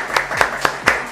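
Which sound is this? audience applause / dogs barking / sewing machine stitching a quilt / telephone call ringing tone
audience applause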